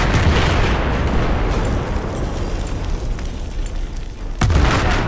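C4 exploding in Battlefield 4 multiplayer: a loud, sustained rumbling boom with dense crackling debris, then a second sharp blast near the end.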